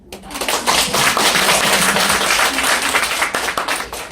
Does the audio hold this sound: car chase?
no